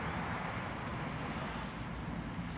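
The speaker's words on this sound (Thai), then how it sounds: "ลมมาแบบแห้งครับ" Strong dry wind blowing over farmland, a steady loud broadband roar with constant buffeting across the whole clip and no voices.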